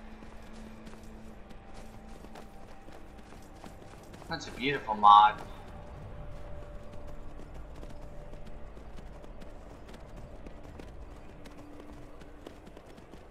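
Horse hooves clip-clopping in Skyrim Special Edition, a short quick cluster of hoofbeats standing out against quiet game ambience, with someone talking nearby.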